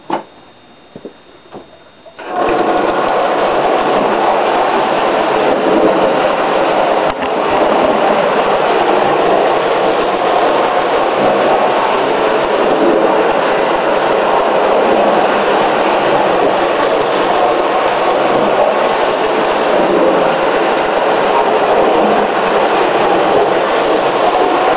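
A restored Marx 666 toy steam locomotive runs on its track after a brief quiet start, giving a loud, continuous motor whir and rattle that stays steady to the end.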